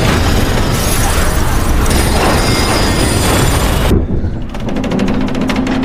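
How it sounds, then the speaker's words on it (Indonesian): In a zombie action film, a runaway train slams into another train with a loud, roaring metallic crash and rumble that fills the scene, then cuts off abruptly into a quieter, ringing aftermath. "kereta tanpa awak itu menabrak kereta lain"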